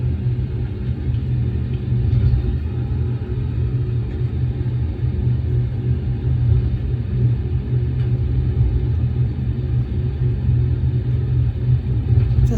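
Steady low rumble of an Airbus A320 taxiing along a concrete taxiway toward the runway threshold, a continuous loud drone heard from inside with no talking.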